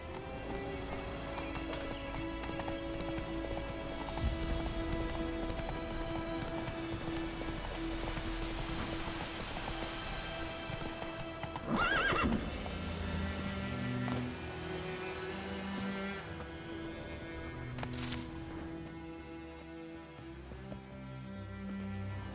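Roach, the horse in Witcher 3, gallops with steady rhythmic hoofbeats over an outdoor game ambience, with a brief neigh-like burst midway and music-like tones underneath.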